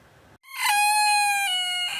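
A 2.5 kg rooster crows once, loud and close, a long sustained harmonic call after a brief quiet start.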